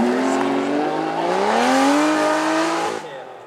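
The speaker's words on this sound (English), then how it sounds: "it is the Ultima RS. This one with a 7 litre Chevy V8 with 700 horsepower" Ultima RS with a 700-horsepower 7-litre Chevy V8 driving past at a supercar weekend, a loud close engine note rising in pitch under acceleration, then fading quickly as it moves away.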